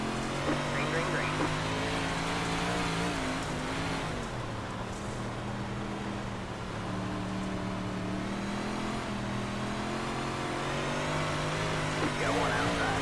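Super late model dirt race cars of the CORE series accelerate together at the green flag, a dense and continuous engine roar with a voice talking over it on a radio.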